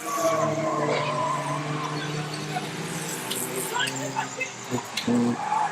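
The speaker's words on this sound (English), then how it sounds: "two cars colliding into each other" Stock cars skid and collide on an obstacle-strewn oval track during a race, engines droning continuously with tire scrapes and a couple of sharp impact bangs near the end, under crowd noise and commentary.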